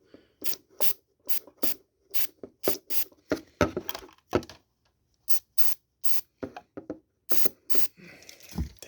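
PB Blaster penetrating oil sprayed onto seized screws on a small toy engine, heard as a series of short, sharp hissing bursts in quick succession at close range, with brief pauses between groups.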